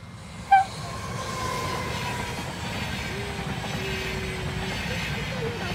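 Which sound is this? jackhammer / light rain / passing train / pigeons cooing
passing train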